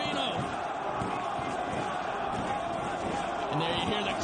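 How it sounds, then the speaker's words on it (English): Ring of Honor wrestling arena crowd roaring and cheering behind Homicide's match, a dense sustained wash of many voices with scattered shouts, loud and continuous throughout. "And there you hear the crowd there behind Homicide"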